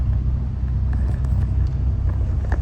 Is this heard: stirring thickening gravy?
no